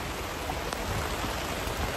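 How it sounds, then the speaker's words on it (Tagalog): Heavy rain pours down in a dense, steady roar, loud and close, with no pauses and no voices over it. "Grabing ulan."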